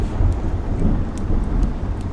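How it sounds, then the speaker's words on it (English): Thunder rumbles low and heavy through steady rain, a dark, continuous storm wash with no voices. "It's thundery and rainy and dark."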